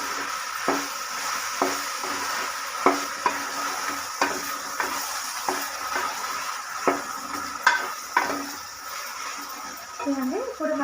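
A spoon stirring a cup of curd into frying ginger paste masala for veg pulao, with a steady sizzle under repeated scraping clinks against the pan, close up, and a voice talking lightly underneath.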